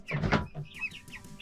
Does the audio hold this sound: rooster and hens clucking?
yes